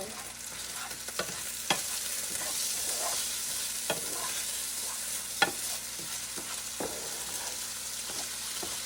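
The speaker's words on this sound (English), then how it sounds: "I already hear the rice frying" Steady background sizzle of rice frying in a pan for Spanish-style stew chicken, with occasional sharp clicks and scrapes of a spoon stirring, fairly quiet and continuous.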